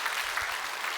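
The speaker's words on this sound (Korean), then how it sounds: "이렇게 다 교인들이 박수를 쳐주는데" Church congregation clapping during a Sunday service sermon break, a short continuous patter of many hands, even and moderately loud.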